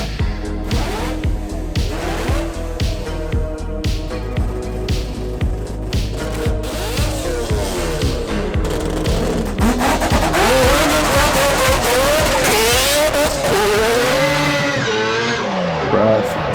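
A Toyota Supra race car with a new exhaust and straight-cut gears drives hard. The engine screams and revs loudly with rapid up-and-down pitch sweeps, gear changes and some tire squeal throughout.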